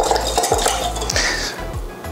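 Ingredients for a Thai cucumber salad being whisked in a bowl, quick clinking and scraping of a utensil against the dish in a short rhythmic burst, close up with no talking.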